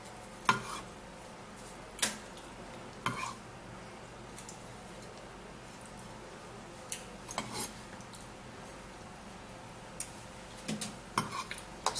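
Metal spoon scraping and scooping firm, unripe avocado flesh into a small mortar, a handful of sharp clinks and scrapes spaced a second or so apart over a quiet room hum, no talking.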